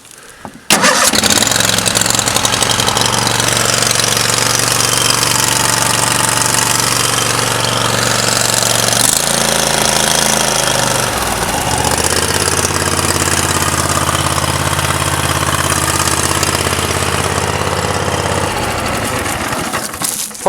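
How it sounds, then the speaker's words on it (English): A Kohler engine on a Cub Cadet zero-turn mower cranks and catches, then runs at a loud steady idle. The pitch drops partway through as the throttle is eased, heard up close with no voices. "starts and runs nice, like a Kohler should"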